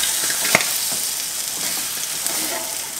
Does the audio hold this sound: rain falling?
no